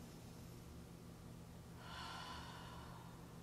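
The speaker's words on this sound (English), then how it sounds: "Taking a breath in here." A deep inhale during a gentle hip stretch in a yoga session, a soft, close breath rising over a steady background hiss, heard alone without talk.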